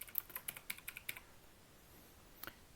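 Quick run of keystrokes on a computer keyboard, about a dozen light clicks in the first second, a pause, then a couple more taps, close and quiet.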